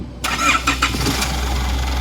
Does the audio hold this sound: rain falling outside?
no